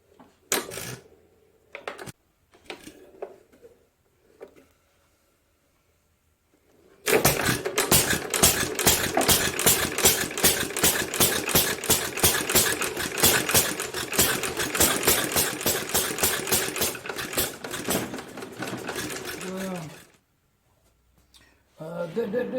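A Nelson Brothers hit-and-miss engine, hand-crank started, chugs in a fast steady rapid-fire beat for about thirteen seconds after a few scattered clanks, then winds down and stops, loud and close with no talk.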